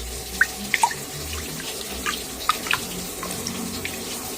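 Water runs steadily from a tap into a container for brining olives, with scattered drips and small splashes over a continuous low wash.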